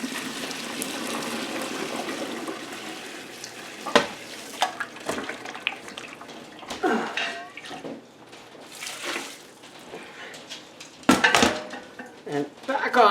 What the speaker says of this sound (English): I'm going to pour off most of this into this pot, and then the rest into the pot that's on the stove